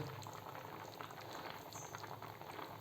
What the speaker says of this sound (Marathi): शिजू द्या आता भात आपला मस्तपैकी